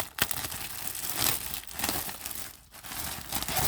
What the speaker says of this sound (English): let's unwrap it, y'all